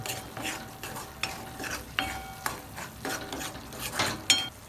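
Masala frying with chicken liver in its own released fat, stirred by hand: rhythmic spoon scrapes and clinks against the pan every half second or so over a low sizzle, close up with no talking.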